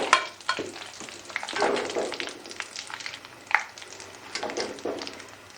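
Dried coconut (khopra) roasting in a pan while making homemade sweet and savoury chivra: crackly frying sizzle with repeated scraping stirs and clinks of the spoon against the pan, fairly close and steady.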